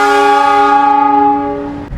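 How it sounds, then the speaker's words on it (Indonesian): An Indonesian Batavia passenger train passes close by at Karawang, giving a loud sustained horn-like tone with strong steady harmonics that fades slightly toward the end, with no talk. "Nah, ini kita berpapasan dengan kereta api Batavia."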